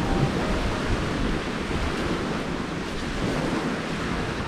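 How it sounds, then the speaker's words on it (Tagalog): Ocean waves wash in a continuous broad roar, steady and fairly loud, with some wind buffeting and no voices, heard from a beach campsite. "I hope the waves are not masking my voice"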